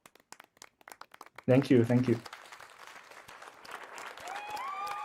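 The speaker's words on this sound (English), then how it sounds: "another round of applause" At the EGSR 2021 rendering conference, scattered light claps for the session speakers give way to a man's brief spoken thanks, followed by a soft, continuing patter of applause.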